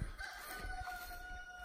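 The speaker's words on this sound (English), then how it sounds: "And then this morning, another rooster appeared." A rooster crows faintly in the distance in an outdoor rural setting, a brief call over a steady background hum.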